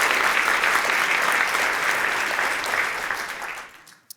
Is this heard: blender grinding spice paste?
no